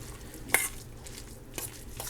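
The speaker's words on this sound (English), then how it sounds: "I'm going to stir this up." Spoon stirring a canned salmon fritter mixture in a bowl, soft wet scraping with two sharp clinks of utensil against the dish, close and without talk.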